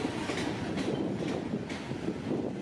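A train rumbles steadily along the tracks while shifting onto another track, with a continuous low roar and faint rhythmic clacking of wheels.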